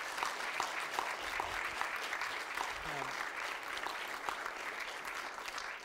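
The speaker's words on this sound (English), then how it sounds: "So can we please give everybody at the back a huge round of applause?" An audience at a tech conference applauds, a dense, continuous patter of many hands clapping at an even level throughout, fairly faint and distant, with a voice briefly over it.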